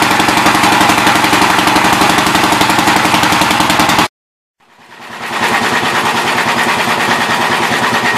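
A 1970 Gravely C8 tractor engine, started for the first time in years, chugs loudly and steadily with a rapid knocking rhythm, cuts out abruptly to silence, then restarts and settles back into its even running beat.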